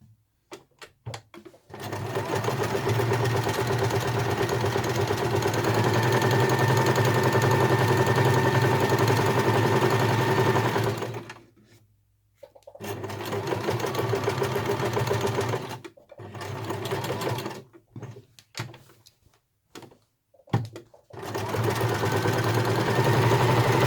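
Sewing machine stitching around a fabric snap-shut glasses case, a loud rapid mechanical whir running in long bursts with several short pauses and restarts.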